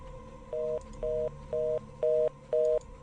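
Telephone receiver picked up at night gives a repeating signal tone, five short even beeps in quick regular rhythm, clear and steady with no talking.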